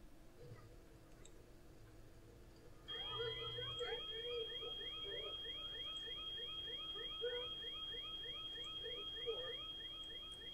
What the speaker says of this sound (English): And of course, Liberty set the house on fire. Because we have the alarm.